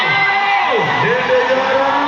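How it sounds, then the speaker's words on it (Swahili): A crowd at a gathering in Kiharu cheers and whoops for politician Ndindi Nyoro, a dense, loud roar of voices running through the whole stretch with rising yells. "Wapi makofi ya Mheshimiwa Dede Nyoro?"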